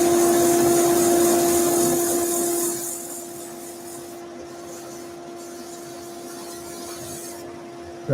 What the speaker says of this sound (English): let's just put the dust extractor on and sand that last little bit